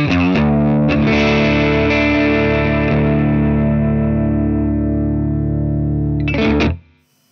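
An electric guitar plays through a lightly overdriven amp with no delay. A strummed chord rings loud and sustained for several seconds and decays slowly, then a brief pick attack sounds before it is cut off.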